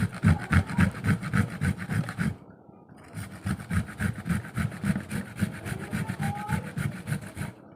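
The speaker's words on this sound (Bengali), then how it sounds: "ডিমের ঝোলের জন্য পেঁয়াজ, আদা, রসুন সবটাই ঘষে দিলাম।" Onion, ginger and garlic rubbed over a kitchen grater for an egg curry: fast, rhythmic rasping strokes, loud and close, with a short pause midway before the scraping resumes at the same steady pace.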